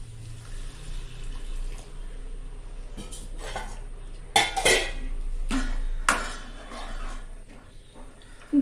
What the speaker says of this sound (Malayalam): ഇനി ഇതിലേക്ക് കുറച്ച് തിളച്ച വെള്ളം ഒഴിക്കും